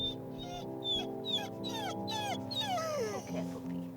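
A pit bull puppy whimpers and whines in a series of high, sliding cries, each dropping in pitch, close by and fairly quiet, ending in a longer descending whine.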